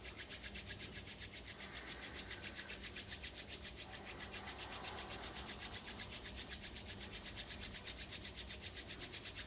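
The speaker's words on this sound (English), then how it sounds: "Let's build some heat between the hands. Rubbing palms together." Palms rub together briskly to build heat, a close, steady, rhythmic swishing friction that carries evenly from start to finish.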